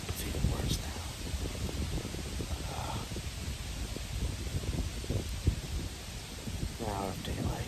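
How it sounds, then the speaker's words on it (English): High wind rustles leaves during bow season in the woods, a steady low roar with gusty swells and crackling foliage, with a few faint scattered knocks and rustles close by. "Wind picked up, it's even worse now."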